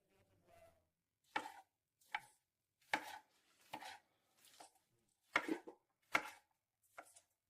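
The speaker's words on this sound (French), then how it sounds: "Je le coupe ainsi, en petits morceaux, c'est ça." A knife chops sausage into small rounds on a board, eight or nine crisp, evenly spaced cuts ringing out close and clear with no talking.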